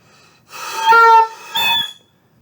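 A shrill, harsh squawk from a saxophone mouthpiece, caused by taking too much mouthpiece into the mouth, in two short bursts, loud and close, with silence around them.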